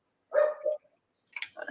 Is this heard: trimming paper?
no